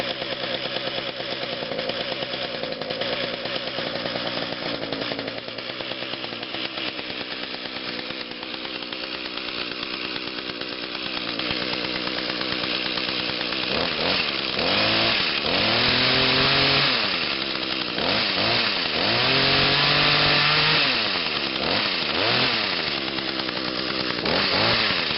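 Small two-stroke engine running close by after a cold start: a steady buzzing idle, then several quick revving blips that rise and fall toward the end.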